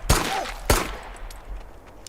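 In a video game, a shotgun and a pistol fire two loud sharp blasts about half a second apart, each trailing off into echoing rumble, with no talking.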